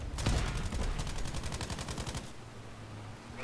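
Rapid automatic fire from a grease gun in Battlefield V, a sustained burst of close, loud shots lasting about two seconds before stopping, leaving game ambience.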